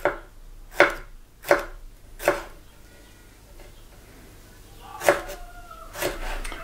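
Knife chopping jalapenos on a board: five or six sharp, close chops in two bursts, with a quiet pause between them.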